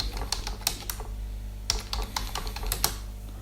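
Fingers tap out a name on a computer keyboard while filling in an online train ticket booking form: a string of quick, irregular keystroke clicks over a steady low hum, close and fairly loud.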